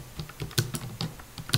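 Computer keyboard typing while lettering text for a wedding jotter design in CorelDRAW: a quick run of close, crisp keystrokes in an irregular rhythm, clearly audible with no talking over it.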